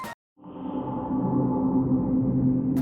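The Serum synth preset Prophecy fades in after a brief silence as a dark, sustained tone that swells and builds into a rich, steady drone, with a faint high shimmer near the start.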